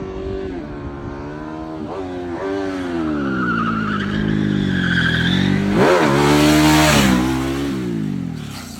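A Ducati Multistrada V4S motorcycle engine runs with a rough, rising and falling pitch, swelling loud near the middle before easing off, steady and close throughout without speech.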